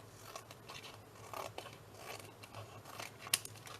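Scissors trimming a paper stencil close to its edge, quiet crisp snips and rustling paper close by, with one sharper cut near the end and no talking.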